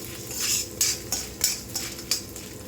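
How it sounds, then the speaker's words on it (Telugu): A metal spoon scrapes and clinks against a pan while urad dal and cumin seeds fry for a Telugu beetroot tempering, rhythmic stirring strokes about every half second over a faint sizzle. "అన్నీ కలిపి బాగా ఫ్రై చేసుకుంటాము"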